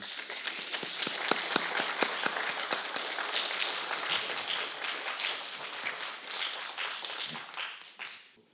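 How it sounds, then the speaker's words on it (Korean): An audience at a peace forum session applauds: a few sharp individual claps at first, quickly building into full, steady applause from the crowd that continues for several seconds before stopping abruptly. "격려의 박수 보내주시면 좋겠습니다"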